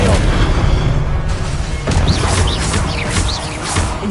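Combat spell effects from the Hogwarts Legacy game, a dense loud mix of booming impacts and crashing bursts with whooshing chirps layered over a rumbling background, several hits in quick succession.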